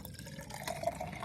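Water poured into a small graduated cylinder, a brief soft close trickle and gurgle over faint room noise, heard alone without talking.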